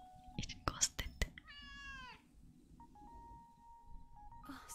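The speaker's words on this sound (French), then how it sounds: "Oh, ça doit être le chat de Nora" A cat meows in a cozy video game, one drawn-out meow after a few sharp clicks, then a steady electronic tone, with soft whispered talk over it.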